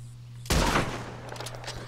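A loud gunshot from a weapon fired at a fox in Red Dead Redemption 2 cracks out sharply, then its echo and rumble trail off over quieter ambient game sound.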